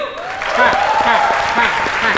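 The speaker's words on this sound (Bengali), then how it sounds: "সায়নের জন্য একটা জোরে হাততালি।" A live audience at a Bangla stand-up comedy roast in Kolkata claps steadily and fairly loudly, with a voice speaking over the applause.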